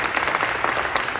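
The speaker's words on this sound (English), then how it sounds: "A big round of applause" A crowd at a Los Angeles City Council session applauds the councilwoman, a brief burst of dense, loud clapping from many people, close and continuous throughout.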